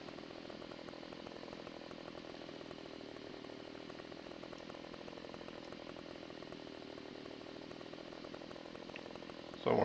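A chainsaw in Farming Simulator 15 drones steadily as it cuts wood, a continuous buzzing whine that holds level for several seconds, then a brief louder burst at the very end.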